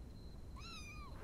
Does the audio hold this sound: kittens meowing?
yes